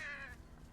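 Crows caw in the horror adventure game Saint Kotar, a brief harsh call ringing out clearly over a dim ambient backdrop.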